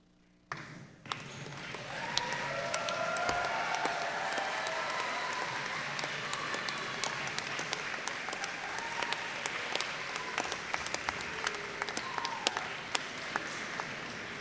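A graduation audience at a 2023 commencement ceremony breaks into sustained applause: dense, steady clapping from a large crowd that rises quickly and holds for about thirteen seconds.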